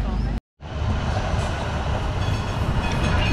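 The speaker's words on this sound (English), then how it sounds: "beautiful old tram." A classic old tram rolls past on a street in The Hague, its loud, steady rumble and rail clatter filling the scene right after a brief cut.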